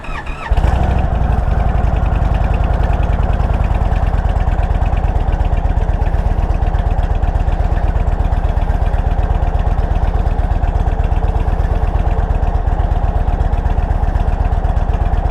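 A 2021 Indian Roadmaster motorcycle engine cranks and catches, then settles into a steady, loud, close idle that continues throughout without any talking.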